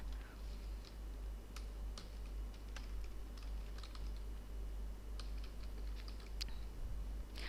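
Quiet, irregular keystrokes tap on a computer keyboard over a low steady hum, a light patter of clicks spread evenly across several seconds.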